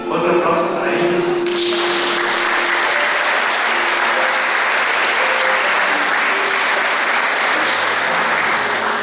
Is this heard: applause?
yes